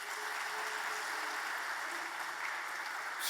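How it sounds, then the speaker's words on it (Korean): A church congregation applauds at a Wednesday service, a steady, fairly faint wash of many hands clapping together throughout, with no one speaking over it. "우리 박수 한번 보내주세요."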